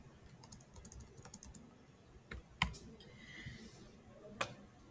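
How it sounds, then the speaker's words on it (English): Fingers tap on a computer keyboard in quick, light, irregular clicks, a few sharper keystrokes standing out. The tapping is close but faint, with no talk over it. "I'm going to type it here."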